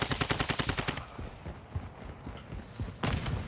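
Rapid bursts of video game gunfire crackle through the opening second, give way to scattered thuds and softer shots, then return as another dense volley near the end.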